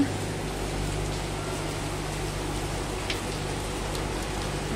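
Rain falls steadily on garden plants in a continuous, even hiss of drops, with a low hum underneath and no voices.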